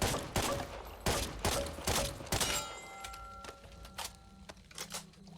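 M1A rifle with a 10-round magazine firing in the video game Back 4 Blood: a quick string of loud, punchy shots, then a few sparser shots and clatter, close and without talk.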